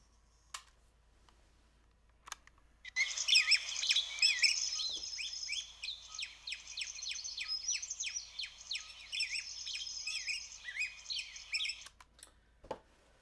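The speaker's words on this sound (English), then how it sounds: "birds." A dense chorus of birds chirping and tweeting runs steadily for about nine seconds, busy, overlapping and fairly close, with no voices.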